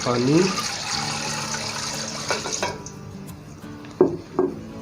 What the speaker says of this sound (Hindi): पानी हम इसमें थोड़ा सा और भी ऐड करेंगे